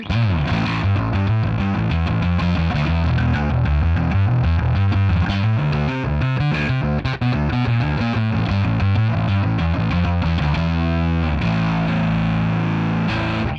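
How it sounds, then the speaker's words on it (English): Heavily fuzzed electric guitar playing a chugging, distorted riff, thick and saturated, loud and continuous with no voices. "So I get that distortion, that fuzziness, that mid-range"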